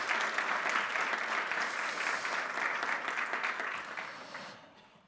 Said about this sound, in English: give a warm applause for our panel members for sharing so many interesting insights with us